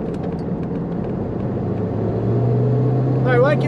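A 1989 Range Rover Classic SWB merging onto a highway, its engine rumbling and steadily building as it accelerates, with road and cabin drone underneath and a voice speaking briefly near the end.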